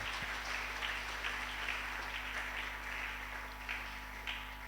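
A church congregation at a French-language sermon applauds steadily, a dense even wash of clapping with faint cheering over a constant low hum, with no speech standing out.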